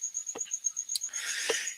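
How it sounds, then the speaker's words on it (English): Crickets chirp indoors among a home shrimp tank rack, a high, rhythmic pulsing trill that carries on steadily, with a few soft taps and a brief hiss of water noise near the end. "Yes, the crickets are in my house."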